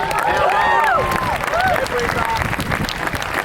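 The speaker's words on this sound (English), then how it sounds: "A big round of applause for Bree Masters." Crowd applause and cheering at a beach sprint race meet, steady and loud across the whole stretch, with whistling or whooping tones early on and a voice talking over the clapping.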